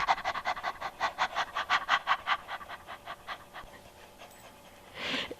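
A person imitating a dog's panting with tongue out in a yoga breathing exercise, producing a quick, rhythmic series of breathy huffs that slow and fade, followed by a short soft breath.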